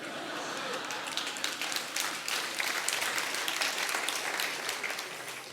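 Lecture audience applauding after a remark at a talk on science and God, dense steady clapping from many hands, fairly near and sustained throughout.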